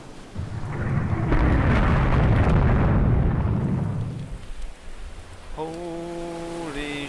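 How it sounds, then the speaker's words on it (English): A torpedo explosion strikes a warship in the naval strategy game Rule the Waves 2. It starts as a loud, rumbling boom that swells and rolls for several seconds, then fades into a quieter background that carries a steady tonal alarm. "the Dunkin' Donut was hit by a torpedo again"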